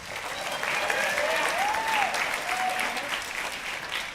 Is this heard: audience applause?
yes